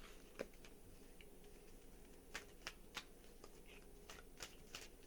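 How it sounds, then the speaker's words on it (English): Playing cards are shuffled by hand, producing quiet, sharp riffling clicks and flicks in scattered bursts over a soft background hush. "Let me shuffle up these cards a little bit better."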